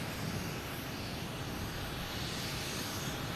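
A jet airliner taking off at Boston Logan Airport gives a steady, broad engine roar that stays constant and moderately loud throughout, with no voices.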